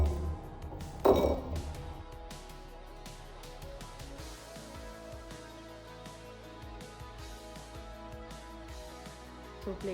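Plates and bowls clink and ping while bonda soup is plated, with one sharper knock near the start followed by lighter scattered clinks over a soft background hum.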